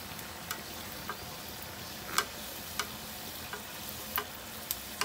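Rose cookies (achu murukku) frying in hot oil, a continuous hiss of bubbling oil broken by scattered light ticks and clicks of the metal mould, steady and close with no speech.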